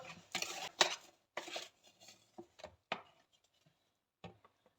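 Cake batter being stirred by hand in a bowl with a spoon, heard as a few irregular scraping and clinking bursts against the bowl, close and fairly quiet, with pauses between strokes and no talking.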